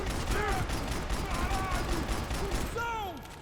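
Gunfire in the shooter game Max Payne 3, a rapid run of shots blended with dense in-game action noise, whistling ricochet-like tones and mechanical clicks, with a person talking over it.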